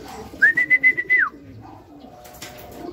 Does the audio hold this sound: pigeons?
yes